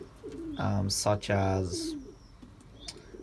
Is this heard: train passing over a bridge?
no